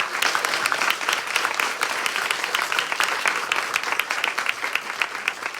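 Sustained audience applause at a domestic violence summit event in the Antelope Valley, honoring DCFS workers; dense, steady clapping from a sizable crowd fills the room throughout, with no speech over it.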